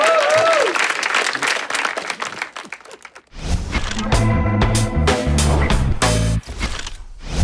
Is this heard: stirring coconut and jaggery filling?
no